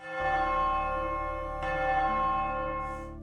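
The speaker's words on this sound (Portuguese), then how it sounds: "Sinos de igreja tocando." Church bells ring out with sustained, resonant tones, one strike layered over another and decaying slowly, fairly faint and alone.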